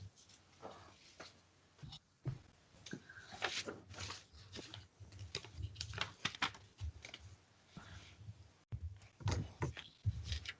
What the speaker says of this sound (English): Forgive my shuffling of papers.